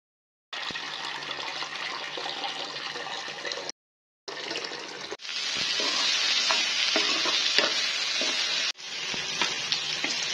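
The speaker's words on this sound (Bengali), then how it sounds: "লাচা রান্না করার জন্য এখানে পেঁয়াজ আর লসুন দিলাম" Onion and garlic fry in a pan with a loud, close hiss and crackle, interrupted by brief silent cuts, then a denser, harsher sizzle and the scrape of stirring.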